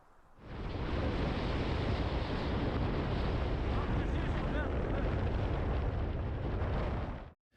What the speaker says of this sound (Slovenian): ker je iz morja pihal ful močen veter